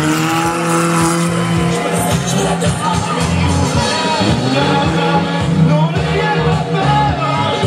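Stunt-show car screeching out, tyres squealing over a steady engine roar while a crowd cheers and shouts throughout, loud and continuous.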